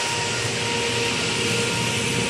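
A pumping station gives off a loud, constant mechanical roar and hum, steady and unbroken from start to finish, with no talking heard.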